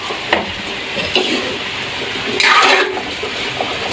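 String beans and bitter gourd fry in a pan with a steady close sizzle, and a louder hissing surge comes as more vegetables hit the hot oil, with some stirring scrapes and no talking.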